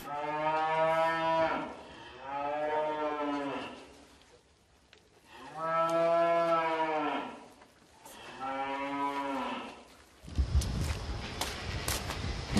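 Dairy cows in a barn let out four long, loud moos one after another with short pauses between them, followed by clattering shuffles and bumps of animals moving about.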